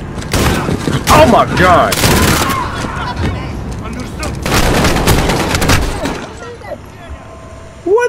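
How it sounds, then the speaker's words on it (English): Rapid bursts of shotgun fire with incendiary rounds blast through a Call of Duty: Modern Warfare battle, loud repeated booms layered with crackling impacts, while a man exclaims over the gunfire near the end. "Did he just have a shotgun with incendiary rounds?"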